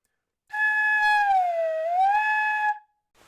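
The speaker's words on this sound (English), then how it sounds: "have fun with the slide whistle sound" A flute head joint played like a slide whistle, with a finger pushed in and out of the end. One clear, sustained tone dips slowly in pitch and then glides back up before stopping.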